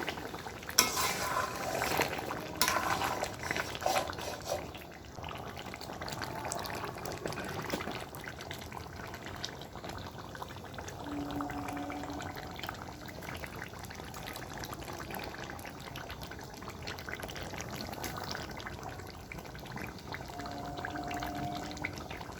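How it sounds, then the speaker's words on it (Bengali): A splash of hot water poured into spicy duck curry, then a spoon stirring it in the pot, with soft bubbling and scraping at close range and a few faint tonal hums, without speech. "এর মধ্যে এখন দিয়ে দিচ্ছে একটু অল্প পরিমাণ গরম জল দিলাম"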